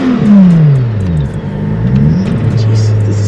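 A BMW E30 swapped to an S52 engine and built to 1200 HP roars hard and close inside the car during a ride, its pitch sliding down and then climbing again. Excited voices can be heard over the rumble.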